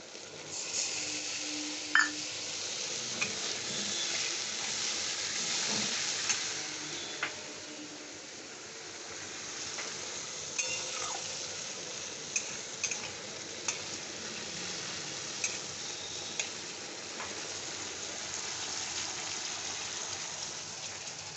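Spices frying and being stirred in a pot for Bengali bhog khichuri, a steady close sizzle with scattered sharp clicks of the spoon against the pot, no talking.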